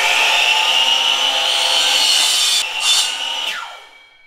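A saw cuts through a 2x4 board to length, making a continuous close rasping whine for several seconds that trails off as the cut finishes.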